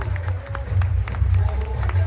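A festival audience at a Ugadi celebration claps steadily, with dense, sustained applause and some crowd noise underneath.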